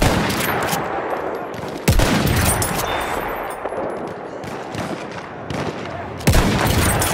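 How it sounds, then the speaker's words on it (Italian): Enemy machine gun fire in Battlefield 1, a loud, dense crackle of gunfire that runs through the whole stretch, with sharp heavier bursts cutting in near the start, middle and end. "Quella è una mitragliatrice nemica."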